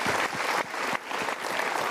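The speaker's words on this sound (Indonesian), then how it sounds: "Kita berikan tepuk tangan dulu." A studio audience claps during a motivational talk show, a short burst of dense applause at close range that swells and dips briefly before fading into the room.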